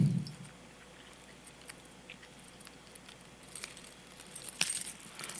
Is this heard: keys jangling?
yes